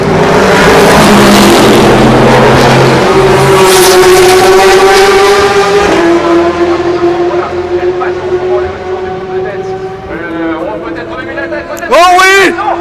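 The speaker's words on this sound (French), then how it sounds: "Michael Way dans l'enchaînement virage Porsche est en train de revenir très très fort en ce moment sur la voiture de tête." Race cars at the 2016 24 Hours of Le Mans roar past close by with high, sustained engine notes and a rising whine near the end, while a commentator talks excitedly over them.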